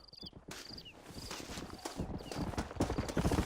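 Video game horse galloping up after being whistled for: rapid rhythmic hoofbeats that grow louder and closer over a few seconds, with faint ambient insect chirps behind.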